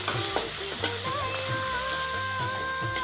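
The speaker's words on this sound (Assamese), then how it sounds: "কাটি লোৱা পিঁয়াজ জলকীয়াখিনি এইখিনি অকণমান ভাজি ল'ম" Chopped onion and green chili frying in hot oil with a bay leaf, a loud continuous sizzle broken by the scrape and clatter of a spatula stirring in the pan.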